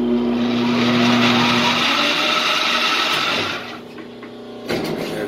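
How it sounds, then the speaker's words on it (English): A Rockwell lathe coasts down without its brake, the motor and spindle whine starting loud and steady, then fading in pitch and level as it slows, with a small clunk near the end. "That's how long it takes to spin down without the brake."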